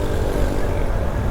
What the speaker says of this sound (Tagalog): Paspas pa rin oh, kahit wala ng muffler.